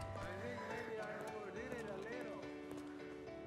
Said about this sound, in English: Here's Daisy, our beautiful Shire horse.